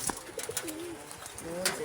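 Pigeons coo softly in a coop, a few low rolling calls close by over faint background rustle and a brief voice.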